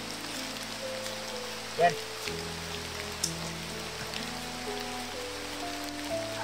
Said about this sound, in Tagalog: Palakas ng ulan, bay.